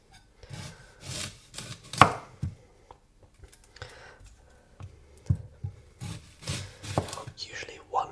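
A knife chops through an onion on a board while making shepherd's pie, a series of close, crisp thuds and cuts in separate bursts, with soft whispering between them.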